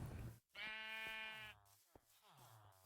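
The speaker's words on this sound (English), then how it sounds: "A sheep spawned over here." A sheep in the video game Sky Factory bleats twice in quick succession, loud and close, with a brief pause between the calls.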